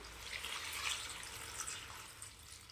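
Water poured over washed and cleaned pulicha keerai (sorrel greens) while cooking: a steady, soft splashing hiss that runs evenly for about three seconds, fairly quiet and with no talking.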